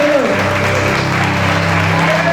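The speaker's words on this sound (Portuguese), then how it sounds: "Vamos aplaudir Jesus" Church congregation applauding during a Portuguese-language worship service, a dense, steady wash of clapping from a large crowd, close and loud, with a faint voice under it.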